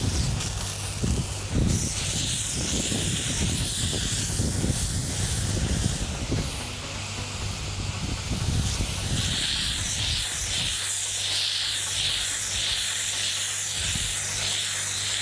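A firefighting hose nozzle sprays water in a circular pattern during a progressive hose lay, giving a steady loud hiss that surges and shifts in intensity, with no voices.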